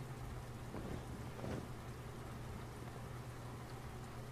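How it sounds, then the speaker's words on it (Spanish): Steady synthetic rain falls in the video game Yume Nikki Double Dash, a continuous even hiss with a couple of slightly louder swells, no voices over it. "sigue lloviendo."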